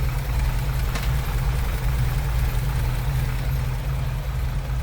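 With the hood propped open on a 1963 Willys Jeep CJ5, its Hurricane four-cylinder idles in a steady, low rumble, moderately quiet and unchanging throughout.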